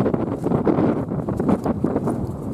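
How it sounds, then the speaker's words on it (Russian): Strong wind gusting outdoors beside a river, roaring loudly and continuously across the microphone with buffeting bursts and no speech. "Ой, ветрище."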